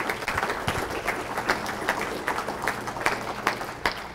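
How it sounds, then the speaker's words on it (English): A crowd applauding steadily, dense clapping close by with a few louder individual claps standing out. "So a big round of applause for Chris Orleans, who is now on his own."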